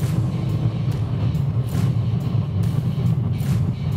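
A Geely GS car accelerating past 120 km/h, heard from inside the cabin as a steady, loud low engine and road rumble with no talk.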